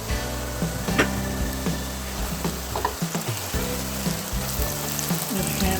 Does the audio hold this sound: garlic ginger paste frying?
yes